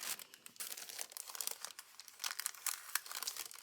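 Tape being handled during paper crafting, with soft crinkling, rustling and peeling sounds in irregular bursts, close and quiet with no voice.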